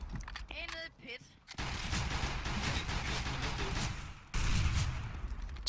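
Rapid automatic fire from a P90 in a competitive video game bursts out after a short spoken exchange, a dense sustained rattle that cuts off briefly and then resumes just as loud.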